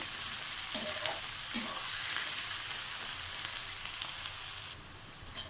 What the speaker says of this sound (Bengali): পেঁয়াজটাকে আমি একটু ভেজে নেব